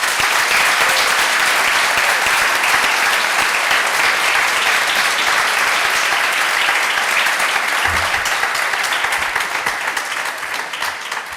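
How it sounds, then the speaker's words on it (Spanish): Sustained applause from a lecture audience welcoming a talk on democracy and liberalism: dense, steady clapping of a large crowd, loud and continuous throughout, easing slightly near the end. "Un aplauso."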